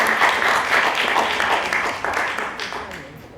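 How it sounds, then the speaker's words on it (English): An audience at a Toastmasters event applauds in a dense, steady burst that gradually fades, with background voices mixed in. "A big applause."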